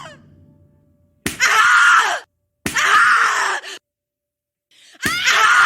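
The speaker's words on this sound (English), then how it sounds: "Scream louder, little bitch! Scream your lungs out!" Loud, harsh screams burst out three times in the video game The Cat Lady, each lasting about a second with abrupt silences between, after a faint low sound at the start.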